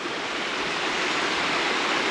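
River current rushing just above a 50-metre waterfall, a dense, continuous roar of moving water, loud and close, with no voices.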